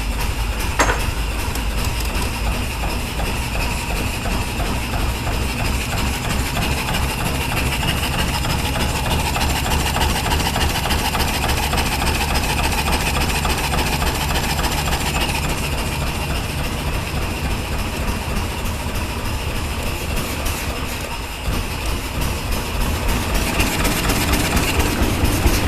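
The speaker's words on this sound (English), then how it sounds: "Cold start for you." A 100-year-old car's engine idles after a cold start, a steady close, loud mechanical chugging with rapid regular firing pulses and a heavy low rumble that runs unbroken throughout, with no talking.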